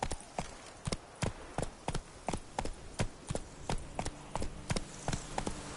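A horse's hooves clip-clop in a steady, brisk rhythm of sharp, close knocks in the video game The Witcher 3: Blood and Wine, with no talk over them.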